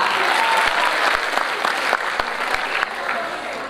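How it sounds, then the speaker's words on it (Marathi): Audience applause after a lavani dance at an annual function, sustained and crowd-filled with a few sharp individual claps standing out. "आणि टाळ्या होऊन जाऊ द्या की जरा"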